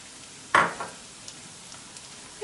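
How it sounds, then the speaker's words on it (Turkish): Onion stirred and frying in a pot with tomato paste, pepper paste, chili flakes, ground pepper and dried mint for a green lentil noodle soup: one loud sizzling burst as ingredients are stirred, then a soft steady fry. "Yaklaşık 1-2 dakika baharatımızı ve salçamızı da soğanla kavuralım."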